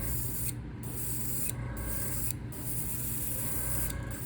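Airbrush spraying paint onto a 1.5 fire tiger crankbait, a steady close hiss broken by brief pauses as the trigger is released roughly once a second.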